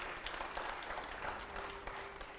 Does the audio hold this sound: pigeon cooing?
no